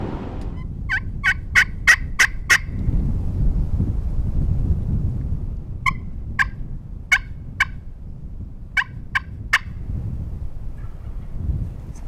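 Wild turkey gobbling from its roost, several rapid bursts rattling out at a distance in clusters, with a low rumbling, wind-like background between calls.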